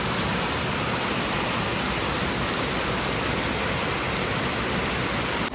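Heavy downpour falls steadily outside in a street where water has pooled, a dense unbroken hiss that stays loud throughout with no voices.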